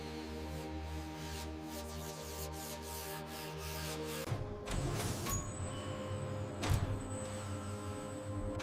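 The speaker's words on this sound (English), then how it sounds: "Hand sanding ensures aerodynamic perfection." Steady rasping strokes of hand sanding over a car body at a Pagani factory, with a low background hum; later a few sharper scrapes and knocks break the rhythm.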